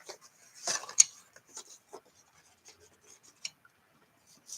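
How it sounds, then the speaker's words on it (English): Scissors cutting a paper rainbow shape for a handmade greeting card, quiet close snips and soft paper rustles in scattered short bursts with pauses, in a hushed setting with no talking. "Okay, so now I cut up the rainbow."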